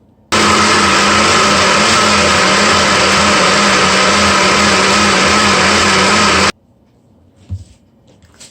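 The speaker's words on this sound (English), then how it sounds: "We're gonna place it on the NutriBullet to mix up and blend up." A NutriBullet blender blends green seasoning with a loud, steady whir for about six seconds, then cuts off abruptly, leaving a quiet room with a few faint knocks.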